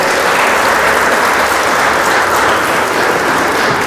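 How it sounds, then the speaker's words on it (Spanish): Wedding guests applaud the couple during a church ceremony, a dense, steady burst of clapping that fills the space from start to finish with no voices over it. "los demás les damos un fuerte aplauso"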